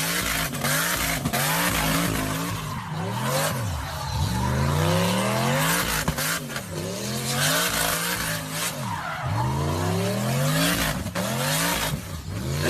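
Car doing a burnout, its engine revving hard in repeated rising and falling sweeps while tyres screech continuously, loud and close with dense roaring noise throughout and no voices.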